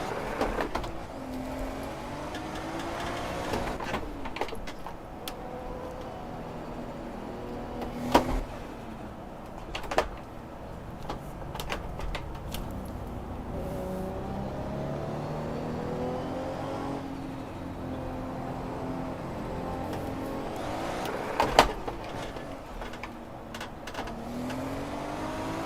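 A 500HP Lexus GS300 race car in Assetto Corsa with a worn-out clutch drones steadily as its engine rises and falls through gear changes, with a few sharp clicks punctuating the continuous hum.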